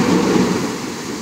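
A brief thunder sound effect, a loud, deep rumble that swells at once and slowly fades within about a second, heard alone.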